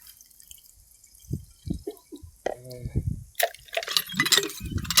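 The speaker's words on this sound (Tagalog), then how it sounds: "Para po, lagyan natin tubig." Water splashes and trickles as it is poured, with drips and a clink of a container, while people talk and exclaim over it.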